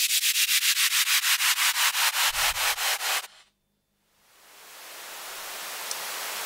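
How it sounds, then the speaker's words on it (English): A rhythmic run of rapid swooshing bursts from a music production program gives way, after a moment of silence, to a white noise riser swelling gradually from faint to steady hiss. "Maybe some white noise instead."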